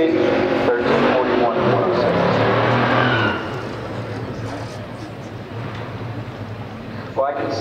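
A 1969 Chevelle SS and a 1969 AMC Rambler Scrambler in a pure stock drag race: a loud engine roar for about three seconds, then a quieter fading rumble as a commentator speaks over it.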